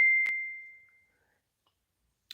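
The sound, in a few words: old phone notification going off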